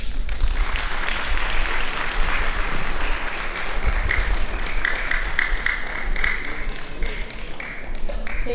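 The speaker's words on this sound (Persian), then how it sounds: "تشکر از تشویق‌های مهربانه شما" An audience at an Afghan Independence Day celebration in Melbourne applauds, and dense, sustained clapping fills the hall at a steady loudness. A few louder individual claps stand out near the end.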